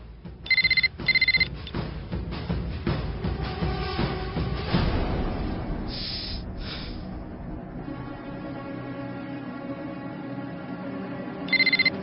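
A telephone rings in short repeated bursts, two quick rings at the start and another near the end, over a busy background of music and movement.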